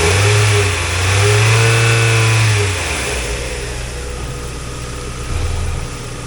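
A 2002 Mazda Miata NB with a low-mileage engine runs close by, rising into a strong rev, then settling back to a steady idle before a brief blip near the end.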